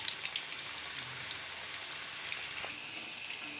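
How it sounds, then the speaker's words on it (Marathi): Potato french fries deep-frying in hot oil, a faint, steady bubbling sizzle with scattered tiny pops, continuous and even, with no voices. "छान असा गोल्डन ब्राउन येईपर्यंत त्याला तळायचं आहे"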